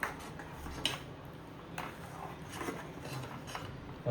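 Metal spoon clinking against a pot while stirring kokum into kulith pithi, a horse gram curry, with a few light scrapes and taps spread over a quiet kitchen background.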